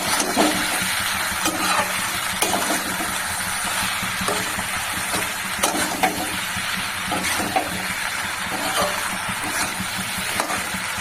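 Masala sautéed in a hot pan at home gives a constant broadband sizzle and hiss, dotted with small crackles and spatula scrapes throughout, with no talking.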